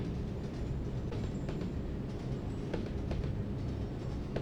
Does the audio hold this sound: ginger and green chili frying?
no